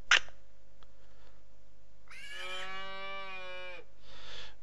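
A cow in the farming game Agrar Simulator moos once, a long drawn-out low call lasting over a second, close and clear, followed by faint background ambience.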